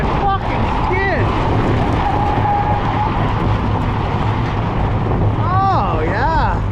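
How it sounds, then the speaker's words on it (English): Tires of an old late-1970s Ford F-350 pickup skid under braking with a loud, sustained rough roar, joined by squealing tire tones rising and falling near the end, up close and with no voices. "Check out that fucking skid!"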